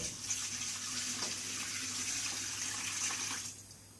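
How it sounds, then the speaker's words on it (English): Water, cold or lukewarm, pours steadily into a clothes-washing container, a continuous splashing rush that stops abruptly near the end, fairly quiet and close. "I just take sometimes cold, sometimes lukewarm water. I add it in."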